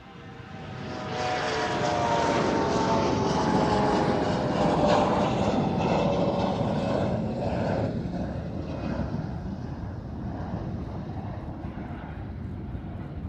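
A Mitsubishi CRJ regional jet at Amsterdam Schiphol airport swells into a loud, close engine roar with a whining tone that peaks mid-pass, then fades into a lower, diminishing rumble.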